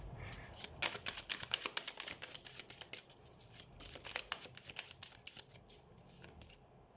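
Tarot cards being drawn and laid out from a deck, giving a quiet run of papery flicks and snaps in uneven bursts, close by with no talking.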